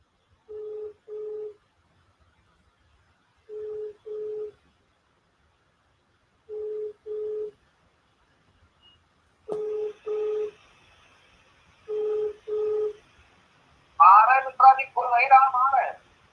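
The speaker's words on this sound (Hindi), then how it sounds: "शिव कुमार शुक्ला जी को एक बार फोन कर दें" Telephone keypad tones beep in paired bursts at regular intervals while dialing a participant who dropped from a call over a poor network, followed by brief line noise and then a clear burst of ringback or connection tones.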